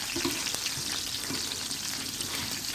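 Oil fries in a pan with garlic, ginger, cinnamon and onion for fish as it is stirred around. A dense, steady sizzle runs throughout with faint stirring knocks and no voices.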